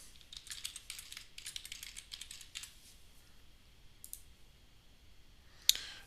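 Quiet, fairly distant typing of a BitLocker password on a computer keyboard: quick clusters of soft key clicks over the first few seconds, then a few scattered taps and one sharper click near the end.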